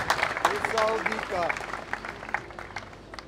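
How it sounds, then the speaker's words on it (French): A large crowd at a public political gathering in Kinshasa claps and cheers, a moderately faint rolling applause with scattered sharper claps and overlapping voices, including a loud speaker talking over it. "Il faut applaudir très fort."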